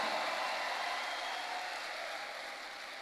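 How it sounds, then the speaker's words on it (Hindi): An audience at a motivational success seminar applauds, a dense, even wash of many hands clapping that slowly fades over a few seconds, no voices. "हाथ उठा के बजाओ, जानदार तालियां"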